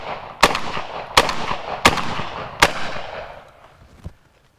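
A shotgun loaded with old neglected ammunition fires four sharp booming shots at uneven intervals, each with a ringing outdoor tail, then a fainter fifth report as the sound dies away; no talking.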